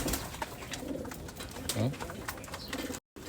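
Pet pigeons coo and flutter close by while scrambling for peanuts, soft low coos mixed with scuffling and pecking clicks, someone talking over them.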